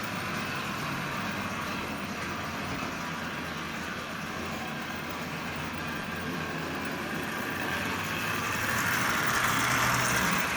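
A repaired Marx 400 toy locomotive with a newly mounted motor runs on track, giving a steady close whirring rumble that stays even throughout and grows slightly louder near the end, with no talking.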